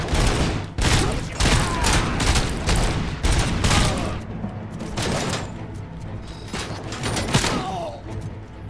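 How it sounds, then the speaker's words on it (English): Assault rifle fire in a RoboCop video game: dense, loud bursts of rapid automatic gunshots with mechanical clanks, continuing almost without pause and easing slightly toward the end. "Assault rifle 74. That wouldn't be a riff on the AK-47, would it?"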